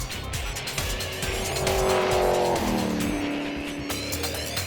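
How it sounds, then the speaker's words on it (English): A Subaru Impreza hillclimb race car launches hard off the line at the Knysna Simola Hillclimb with all four tyres smoking, its engine roaring and tyres squealing loudly and continuously, heard up close. "Smoking all four tyres off the line, Cronje seemed determined to break into the"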